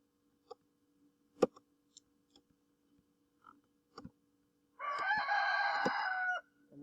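A rooster crows once in a long, loud call near the end, after a few scattered clicks and knocks in an otherwise quiet setting.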